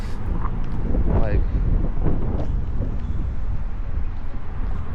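Wind buffets the microphone in a steady low roar with gusty swells while a person speaks over it.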